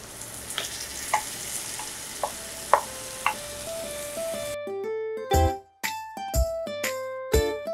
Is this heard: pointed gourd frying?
yes